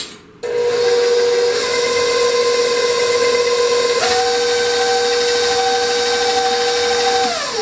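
Electric mixer beating cake batter with sour cream, a loud, close, sustained whine that starts abruptly and shifts pitch midway as the speed changes, with no voices.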